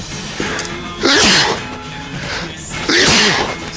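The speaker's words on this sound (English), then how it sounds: "Oh, I'm gonna sneeze." A person sneezes twice during an IRL livestream while shopping for a streamer awards outfit, two sharp, loud bursts close to the microphone, about two seconds apart, with faint background noise between them.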